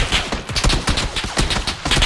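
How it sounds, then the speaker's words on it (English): Gunfire in PUBG heard from a distance, a scattered run of muffled shots in irregular rhythm over a busy game background. "Oh, there's another guy shooting you."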